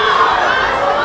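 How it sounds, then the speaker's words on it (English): Excited crowd noise fills a swimming competition venue at the IASAS 2023 meet, a dense, steady roar of many voices cheering heard from above, continuous and loud throughout. "Crowd is very excited down here below us."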